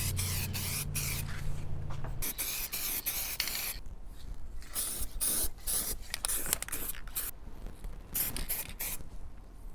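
Degreaser sprayed from a can onto stuck hardware, a steady close hiss in bursts broken by short pauses, with a low hum under the first two seconds.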